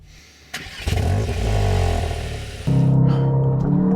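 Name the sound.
Cupra Leon hot hatch launch control acceleration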